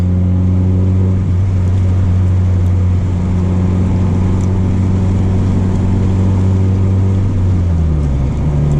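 Steady engine drone of a 1998 Honda Civic EX cruising at around 40 mph, heard from inside the car, with a constant low hum and a slight shift in pitch near the end.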